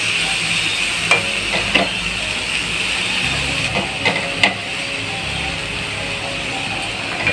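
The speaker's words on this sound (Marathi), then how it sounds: "तर अशी परतून घेतली थोडी" Fenugreek leaves (methi) sautéing in oil in a pan make a continuous close sizzle with occasional scraping stirs and clicks of a spoon against the pan.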